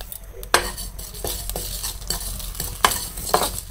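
Mango pickle spices, including dried red chillies, being dry-roasted and stirred in a pan, with repeated sharp scrapes and clinks of a spoon against metal over a low sizzle, close and fairly loud.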